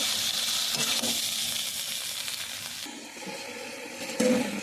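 Soybean chunks fry together with spiced potatoes in a pan, making a continuous loud hissing sizzle that softens midway, followed by a brief louder burst near the end.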